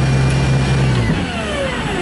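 A glider's small engine runs steadily with a low drone, then cuts off partway through and spins down into fading noise, loud and close with no talk.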